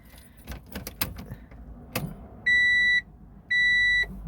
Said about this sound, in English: The good old Honda beeping.